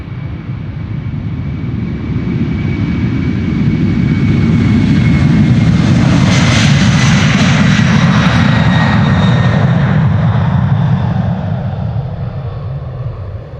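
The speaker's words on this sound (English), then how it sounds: "United Airlines Flight 947 to Washington, 767-300, 31 years old" A 31-year-old United Airlines Boeing 767-300 jet departs Amsterdam Schiphol bound for Washington, its deep engine roar loud and close, building to a peak and holding before slowly fading.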